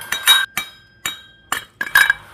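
Sharp metallic taps knocking a part out of a Honda GX35 brush cutter shaft housing, five separated knocks with bright ringing overtones, close by and fairly loud, uneven in spacing.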